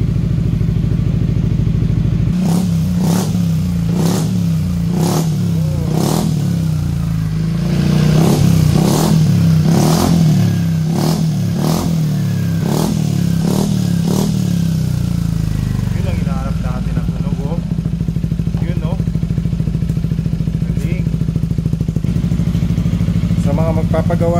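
A Yamaha XMAX 300 scooter fitted with a Kalkal exhaust pipe revs in a series of sharp, close throttle blips over a steady idle, then settles into a rough idle with some clatter.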